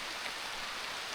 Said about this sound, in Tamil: நல்ல மழை பெய்ய ஸ்டார்ட் ஆகிடுச்சு.